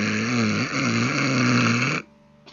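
A person imitates snoring with a long, loud, rasping nasal drone that wavers in pitch, then cuts off abruptly into near silence.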